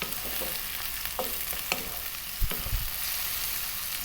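Ingredients for a spicy coconut seafood soup are tossed and fry in a hot pan over above-medium heat. A steady close sizzle runs under a few sharp stirring and scraping knocks, with no talk.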